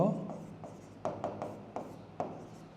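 Chalk or marker strokes on a classroom board during a higher-math lesson on squaring both sides of an equation: a series of short, sharp scratchy taps in irregular bursts, close and moderately loud, with a voice in the background.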